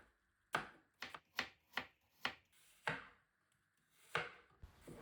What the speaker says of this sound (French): Après avoir bien coupé les pommes